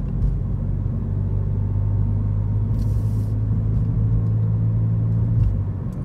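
Volkswagen Golf GTI running on ethanol, driving in automatic D mode with the gearbox shifting for itself: a steady, loud low engine rumble with a sustained drone, no voices over it.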